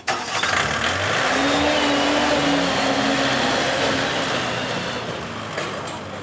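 A tractor engine starts with a sharp jolt and then runs at a steady mid-pitched drone with a slight rise in revs as it backs up slightly, loud and near, fading a little toward the end.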